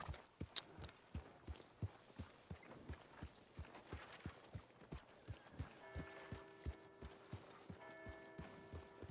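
Horse hooves walking at a steady clip-clop pace in Red Dead Redemption 2, evenly spaced thuds close by, with a sustained musical tone joining partway through.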